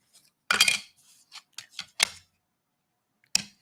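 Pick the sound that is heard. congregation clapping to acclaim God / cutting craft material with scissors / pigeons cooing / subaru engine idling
cutting craft material with scissors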